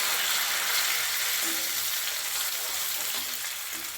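Garlic and curry leaves sauté in a hot pan for bitter gourd fry. The oil gives a steady, close sizzle with faint stirring scrapes, and no voices are heard.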